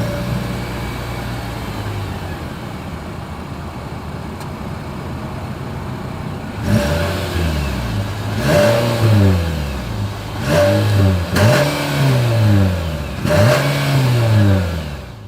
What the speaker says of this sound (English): Then here is that exhaust clip.